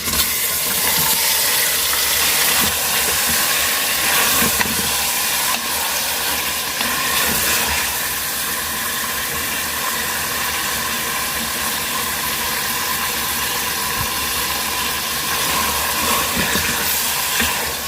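Marinated mutton sizzles loudly as it is added to browned onions in a pan for a mutton curry, giving a steady, dense hiss of frying that runs unbroken from start to finish.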